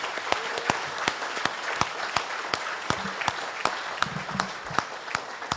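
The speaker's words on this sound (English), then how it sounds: "Let's give them one round of applause" Audience applause at a Guam Chamber of Commerce forum meeting, an even roomful of clapping with a few sharp, distinct claps standing out near the microphone, sustained without a break.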